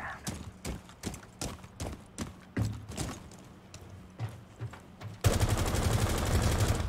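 Gunshots in the tactical shooter Rainbow Six Siege fire in a quick uneven string of sharp, fairly close cracks, followed by a sudden dense burst of sustained noise near the end.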